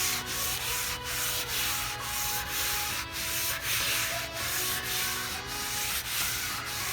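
A wet Scotch-Brite pad scrubs aluminum parts in long, even back-and-forth strokes, a loud, steady abrasive hiss repeating in a regular rhythm of about two strokes per second, close up with no talking.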